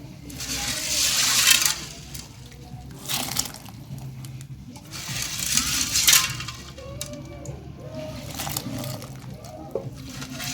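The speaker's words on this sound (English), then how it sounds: "I'm just gonna put my beans." Dry beans for Ugandan katogo are poured into a pot in several rattling bursts, each a loud cascade of small hard pieces with quieter pauses in between.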